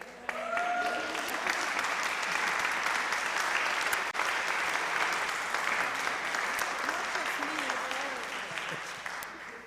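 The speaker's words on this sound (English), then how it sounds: "I'm thinking they should clap for this group." An audience at a church conference annual meeting gives a sustained round of applause, a broad, even roar of many hands clapping in a large hall, with a few voices mixed in and a gradual fade near the end.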